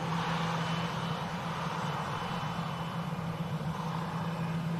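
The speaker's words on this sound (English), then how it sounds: "EasyJet A320 Neo." An EasyJet Airbus A320neo passes at Manchester airport, a steady broad jet roar with a low engine hum held evenly at moderate distance, no voices over it.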